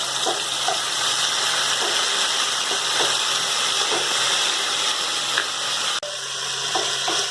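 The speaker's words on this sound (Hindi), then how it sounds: "हम थोड़ी सी लहसुन को चटका देते हैं" Garlic crackles in hot oil while vegetable spring rolls are being made. A close, steady sizzle runs throughout with small scattered pops and no talking.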